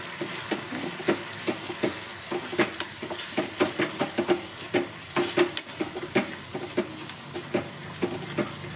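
Green chili, coriander powder, garam masala and chili powder sizzle in a pan for dal gosht, with steady frying hiss and rhythmic scraping stirs close by, no voices.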